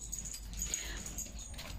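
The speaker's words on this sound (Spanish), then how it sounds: "Ya sé a quién le ladra," A small pet dog barks and whines faintly at home, giving a brief, high-pitched vocal burst over a low background hum, with no talking.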